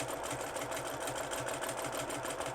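Sewing machine quilting fabric and batting, a steady, fast mechanical whirring with an even stitching rhythm, close and continuous with no talking.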